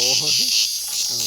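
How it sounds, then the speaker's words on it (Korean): Cicadas (Cryptotympana atrata) buzz loudly and continuously at a summer collecting spot. Brief bits of a voice briefly rise over the shrill, steady drone. "말매미가 많네 여기가"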